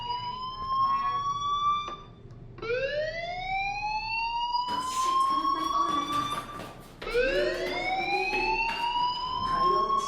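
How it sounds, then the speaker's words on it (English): A fire alarm on a school campus in the video game Life Is Strange wails in repeated rising siren sweeps, several cycles in a row, fairly loud and alone without talking. "Hey, do you hear that fire alarm?"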